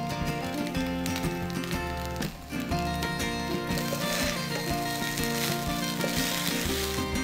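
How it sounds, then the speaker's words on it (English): Basmati rice and boiled eggs fry in a hot pan, giving a continuous close sizzle with occasional scraping stirs and a brief dip partway through. "Let's fry this. Can you hear the sizzle?"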